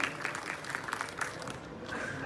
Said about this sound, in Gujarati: આગેવાનોને પણ આપણે તાળીઓથી વધાવી